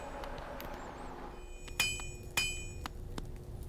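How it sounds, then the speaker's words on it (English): In the Hollow Knight game, a blacksmith's hammer strikes metal twice with a bright, ringing clank, the two hits about half a second apart, over a quiet ambient background. "you hear the clankering of the hammer,"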